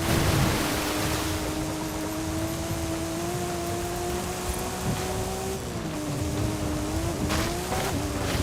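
A level 7 Porsche in a racing video game, its engine a steady sustained drone with small pitch shifts as it changes speed, over continuous road and tire noise, with no voices.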